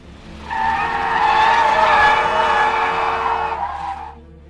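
Car engine roaring with loud sustained tire screeching as the vehicle skids away during a getaway scene in a gangster revenge action film, swelling and then cutting off after about four seconds.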